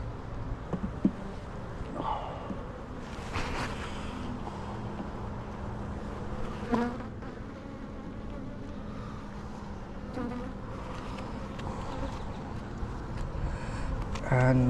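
Honey bees buzz continuously in an open hive with deep boxes, a dense, close hum with occasional louder passes near the microphone, while a person talks over it.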